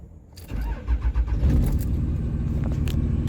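An old truck engine cranks after a week unused, a few uneven starter turns, then catches and settles into a steady, loud idle close by.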